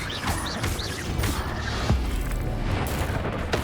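A fire spell cast in the Hogwarts Legacy video game bursts out as a dense, booming whoosh amid steady combat noise, with sharp crackling impacts and a heavy thud near the two-second mark.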